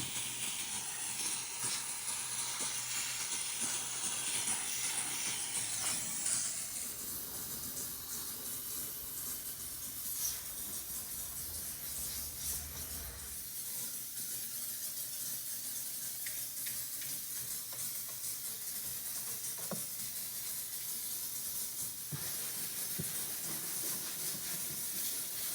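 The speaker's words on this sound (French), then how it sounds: "Après le nettoyage assez hard à la vapeur." Steam cleaner hissing steadily at close range while cleaning the engine bay of an electric car, a continuous broadband spray that runs the whole time with slight shifts in intensity and no voices.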